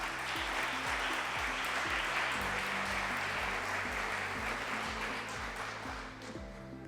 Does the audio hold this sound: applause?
yes